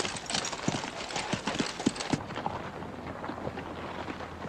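Cavalry horses are led out on a dusty march, their hooves clip-clopping steadily and fairly close over a rough wind-like background noise, with no speech.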